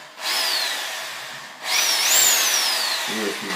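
A Makita 800 W electric drill runs in two close, loud bursts, its motor whine rising as it spins up, sustaining, then winding down, with a faint voice starting at the end.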